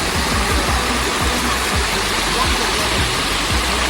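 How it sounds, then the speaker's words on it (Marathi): A waterfall gushes under pressure, a loud, dense, unbroken roar of pouring water heard up close, with low thumping rumbles beneath it. "इकडनं पूर्ण असं पाणीच प्रेशरने येतं आणि हा पूर्ण धबधबा असतो"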